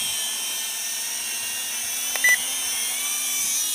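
The WLtoys Q353 triphibian RC quadcopter buzzes as it takes off, a steady high-pitched whine of small motors and propellers holding level and close, with a brief click partway through.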